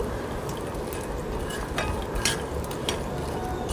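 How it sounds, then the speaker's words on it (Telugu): Rusk pieces fry in ghee over a low flame, giving a steady soft sizzle with occasional light scrapes of stirring against the pan, close up and alone. "సో దగ్గరే ఉండి ఒక జస్ట్ 3 to 4 మినిట్స్లో ఇవి చక్కగా ఫ్రై అయిపోతాయండి"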